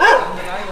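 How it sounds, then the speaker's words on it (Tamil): A dog barks somewhere upstairs in a house, a short loud yelping burst fading into a lingering whine, with a person speaking close by. "மேலே ஒரு நாய் கத்தின்னு கிடக்குது."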